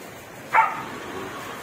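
One short bark from a dog named Snow, kept outdoors in the rain, rising briefly above a soft, steady background hiss of rainfall, moderately distant.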